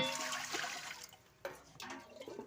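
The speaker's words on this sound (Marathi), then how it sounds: "चार तांब्या पाणी टाकून घेऊ" Water pours into a pot of sago in a steady stream for about a second, then stops; a second splashing pour follows briefly, quiet and close.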